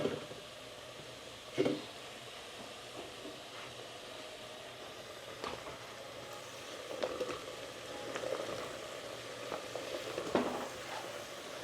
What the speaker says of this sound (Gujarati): ચાલો તો આપણે હવે દૂધી નાખી દઈશું.